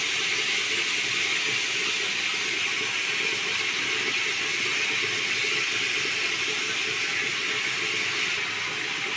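Cooked rice with cashews and raisins stir-fries in a hot kadai, producing a steady, close, dense sizzling hiss that holds evenly throughout without voices.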